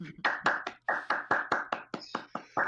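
Close, steady hand claps, roughly a dozen in an even rhythm with one brief pause, sound like a small applause from one or two people in a quiet room.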